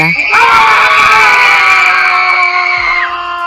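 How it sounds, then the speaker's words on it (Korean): A panicked scream used as an audiobook sound effect: one loud, sustained, high-pitched shriek held steadily for about three seconds before cutting off, with no other sounds around it. "갑자기 사람들의 비명과 혼란스러운 소리가 들려왔다"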